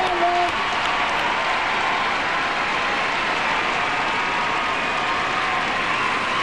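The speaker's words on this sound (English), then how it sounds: "And a great reception from the crowd here." A large arena crowd applauds at the 2006 US figure skating nationals, a dense, steady roar of clapping that holds evenly and loudly throughout, with a brief voice at the start.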